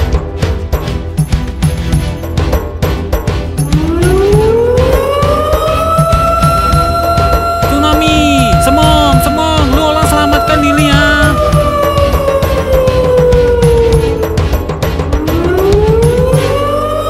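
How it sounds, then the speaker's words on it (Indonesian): A loud tsunami warning siren in an animation wails, rising and falling in long sweeping tones over a busy background of noise and clatter. "mereka akan membunyikan sirine supaya warga tahu dan melakukan evakuasi"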